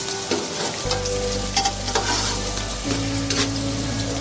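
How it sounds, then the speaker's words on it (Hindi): Onions fry lightly in a pan for a potato katli dish, giving a steady close sizzle with occasional stirring scrapes over a low hum. "प्याज को हमें ज़्यादा लाल नहीं करना है, फ्राई नहीं करनी है ज़्यादा प्याज, बस नॉर्मली करनी है"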